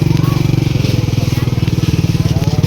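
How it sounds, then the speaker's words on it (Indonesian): A motorcycle engine chugs in a rapid, even pulse at a coastal motorcycle parking area, close and loud, with a faint voice underneath. "Ini adalah parkir motor ya."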